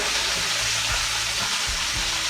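Peppers frying in a casserole pan for a Tex-Mex pork chop casserole, a steady close hiss of sizzling oil with a few soft low knocks of stirring, no talk.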